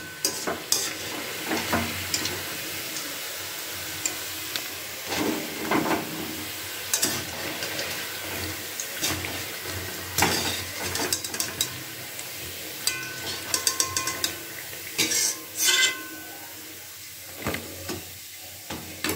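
Sweet potato puli pitha frying in hot oil, a steady soft sizzle with intermittent scraping and stirring clatter as the dumplings are turned and lifted out, close and moderately loud, with no talk.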